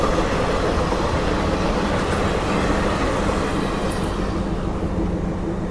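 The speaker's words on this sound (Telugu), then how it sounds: "సో ఈ ట్రైన్ వచ్చేసి మనకు Tirupati Sainath Shirdi weekly express train ఇది." Tirupati–Sainagar Shirdi weekly express train rolling through Nandalur station, close and loud, a continuous rumble of wheels and carriages with faint clatter and a brief high squeal near the end.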